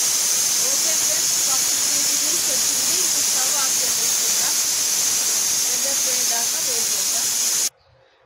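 A pressure cooker on a home kitchen stove venting steam, a loud continuous hiss that holds steady for several seconds before stopping abruptly, close to the listener.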